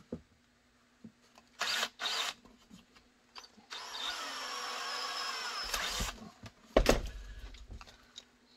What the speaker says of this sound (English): drill that hole.